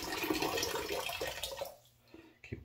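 A shaving brush and bowl are lifted out of a sink of hot water: a short burst of close splashing and dripping that fades, followed by a few small drips and clinks.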